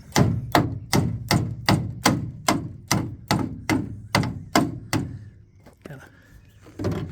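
Old 1964 Ford wagon metal body under repair with a rubberized coating: a dent puller yanks the panel in about eleven rhythmic, evenly spaced hard thunks, close and loud, then a pause and a couple of scattered knocks.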